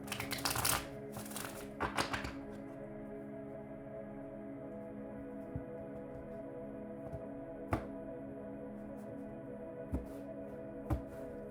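Tarot cards shuffled by hand, a brisk riffling burst at the start, then a few soft isolated card taps over a low steady hum in a quiet room, no talking.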